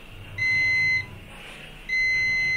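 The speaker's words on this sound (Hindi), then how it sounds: "देखो यहाँ पे भी बीप" A multimeter on continuity mode beeps while probing a circuit board for half or minor shorts: two steady, piercing electronic tones, each lasting about half a second, separated by a brief pause.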